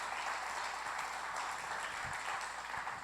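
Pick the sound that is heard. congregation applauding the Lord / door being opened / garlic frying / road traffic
congregation applauding the Lord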